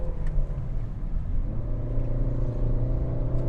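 A 2022 Peugeot 3008 mid-size SUV on the road, heard from inside the cabin as a steady low engine and road rumble with a slight rise in revs, fairly loud and continuous with no talk.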